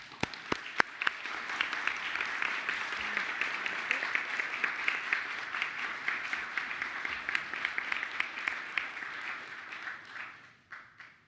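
School board meeting attendees give a round of applause, a fairly faint but dense crowd clapping that opens with a few sharp claps, holds steady, then tapers off near the end.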